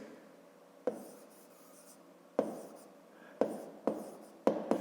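A pen writes in a notebook in short, close strokes, with several sharp taps as the pen meets the page, then bursts of scratchy scribbling separated by pauses.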